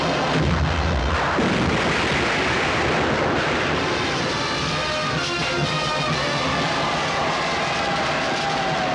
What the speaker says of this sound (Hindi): तोपों की गूंज सुनो